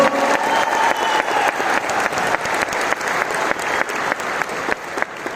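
An audience at a goal-setting seminar applauds, a dense, sustained burst of many hands clapping throughout, loud and fairly close, with faint crowd murmur underneath.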